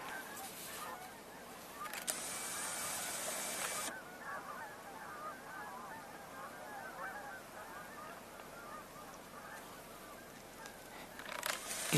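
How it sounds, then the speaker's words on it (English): Canada geese honking repeatedly in the distance, a steady chorus of overlapping calls over faint outdoor ambience, with no voices. "given the vocalizations I'm hearing, I wonder if there are more geese at ground level already"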